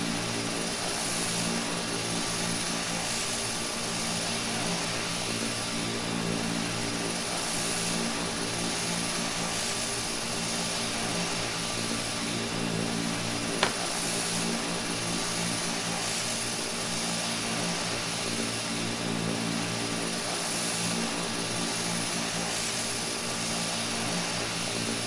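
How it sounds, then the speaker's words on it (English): Embraer EMB-120 turboprop engine in a flight simulator game, a loud continuous propeller drone with steady tonal hum that holds unchanged throughout, with one tiny click partway through. "that sound wants to go full throttle. sounds like the engine's about to die"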